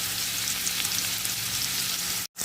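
Onion and curry leaves fry in a pan, giving a steady, dense sizzle with constant crackle, close and fairly loud, with no talk, cutting off abruptly near the end.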